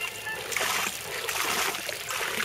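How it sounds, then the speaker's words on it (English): Mint leaves rinsed under running free water, a steady close splashing and trickling spatter that rises and falls continuously throughout. "Rinse off this mint."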